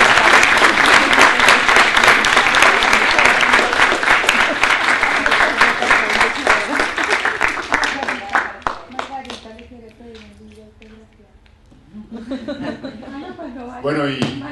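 Audience applause and clapping with scattered laughter fill the room loudly for about eight seconds, then thin out and fade, giving way to speech.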